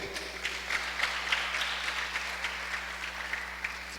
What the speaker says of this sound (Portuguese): Você que recebe essa palavra, você pode aplaudir o nome dEle.